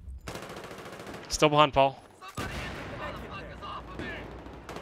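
Gunfire in a shooter video game cracks out in a quick automatic burst, followed by scattered shots, with a player calling out over it.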